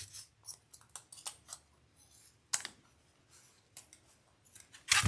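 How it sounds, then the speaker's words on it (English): Sewing clips snapping onto a zipper for a zipper journal pouch, a run of sharp, close clicks scattered irregularly through quiet, with a louder snap near the end. "Let's go ahead and get that zipper clipped."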